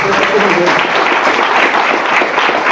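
A church congregation bursts into loud, dense applause during a sermon, a continuous roar of many hands clapping together, with voices mixed in underneath.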